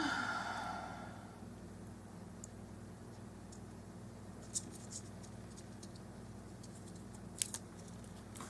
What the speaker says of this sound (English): So little cuts can use little scissors.